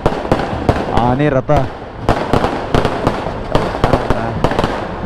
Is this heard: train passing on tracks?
no